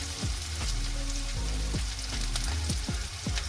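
Food frying steadily in hot oil with a constant close sizzle, punctuated by several sharp scrapes and knocks as the pieces are turned over in the pan; no talking.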